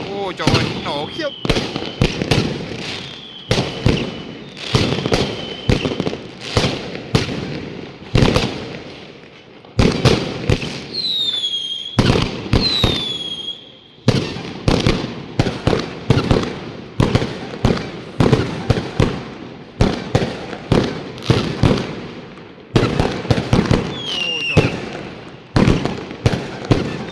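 Fireworks on New Year's Eve in China burst and crackle in a dense, continuous barrage of loud bangs and whistling rockets, close by, with people exclaiming in between.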